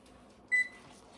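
A single short electronic beep from a kitchen timer while caramel corn syrup boils, clear and close, over faint background hum.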